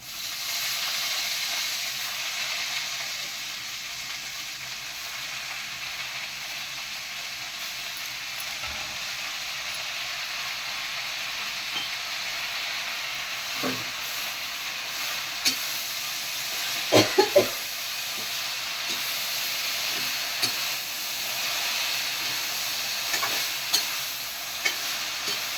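Pumpkin leaf greens being sautéed in a pan, a steady soft hiss and sizzle running throughout, with occasional faint scrapes and knocks of a spoon stirring, no voices.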